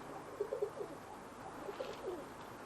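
Tippler pigeons housed in a loft give soft, low cooing calls in two short bursts, faint and close against a quiet background.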